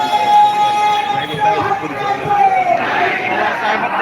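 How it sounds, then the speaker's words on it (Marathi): A large crowd of protesting teachers murmurs and chatters continuously in rain, a dense wash of many voices with a person speaking over it. "भरपूर अशी गर्दी जमलेली आहे या ठिकाणी शिक्षकांची"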